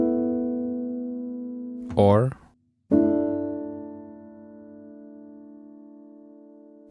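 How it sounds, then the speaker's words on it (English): Suspended chords played on a keyboard: a sustained chord rings out, a brief spoken word cuts in, then a second long chord swells and slowly fades. "Sus chords are suspended chords, and they sound like this."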